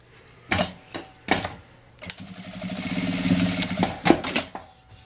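Sewing machine stitching a fabric tab onto a charger and earphone holder, heard in short mechanical bursts followed by a longer steady run of rapid stitching, close and fairly loud.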